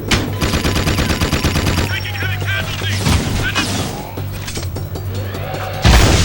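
Peacemaker gun firing in the video game Jak II: loud, close, rapid repeated blasts over a humming machine drone, then heavy booms and crashes with game effects.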